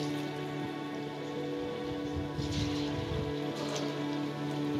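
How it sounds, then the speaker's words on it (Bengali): Battered chicken 65 pieces deep frying in hot oil, a steady, moderate crackling sizzle with fine popping throughout, over a low hum, without talk. "তেল গরম করতে দেব এবং সেই তেলে আমরা একে একে আমাদের এই চিকেনের পিসগুলিকে"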